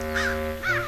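Two harsh, nasal crow caws sound close together, each short and rasping, over a steady low background hum.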